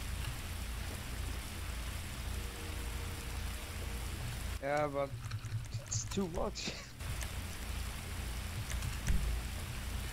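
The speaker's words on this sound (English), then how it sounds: "Feels like it's been raining for ages now." Steady rain falling in GTA 5 during a long downpour, a constant hiss of drops beneath a radio-like exchange between two people talking.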